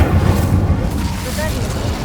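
Fiery Incendio spell blast in Hogwarts Legacy, a loud booming whoosh of flame that rumbles low and fills the short moment, with a voice shouting over it.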